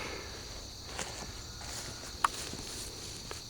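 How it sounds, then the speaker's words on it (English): Faint, scattered footsteps crunch at a distance over a steady outdoor hiss with insect-like buzzing, one step briefly louder than the rest. "I hear somebody walking now."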